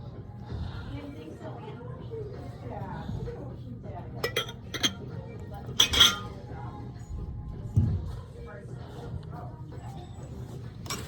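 Mexican hand-blown glassware clinks in a few sharp, bright taps while being handled, clustered around the middle, under steady talking and background shop noise.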